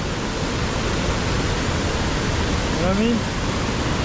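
Gunnison River water rushing at the bottom of a steep canyon, a steady, loud broadband roar that fills the whole clip, with a voice speaking briefly over it.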